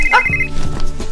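Mobile phone ringing with an incoming call, a short bright electronic ring tone burst near the start, followed by low background murmur and faint movement.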